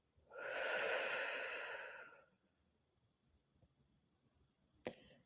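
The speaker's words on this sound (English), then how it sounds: "Deep breath in, exhale." A deep, slow exhale during yoga pranayama breathing, one long breathy release lasting about two seconds, near and soft, followed by quiet and a brief sharp click.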